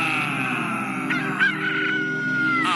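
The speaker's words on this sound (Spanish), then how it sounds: "Afuera, el gallo cantaba anunciando el alba." A rooster crows loud and close in one long drawn-out call with a rising then falling cry, ending in a short extra squawk, heard alone without talk.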